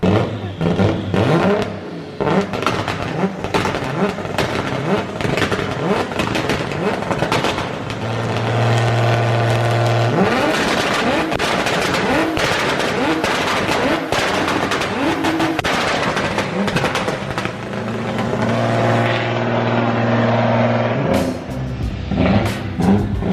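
A loud car engine revs hard and accelerates, with rapid popping bursts like backfire layered over the drone and shifting pitch as it climbs and falls, continuing at length with little talk.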